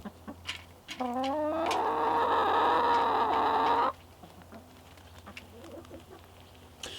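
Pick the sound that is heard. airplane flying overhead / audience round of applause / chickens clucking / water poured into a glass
chickens clucking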